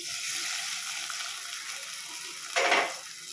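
Hot fried tempering hits cooked pongal with a sudden loud sizzling burst after a steady background hiss, the sharp crackle fading within about half a second.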